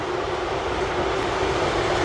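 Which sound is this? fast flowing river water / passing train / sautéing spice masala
passing train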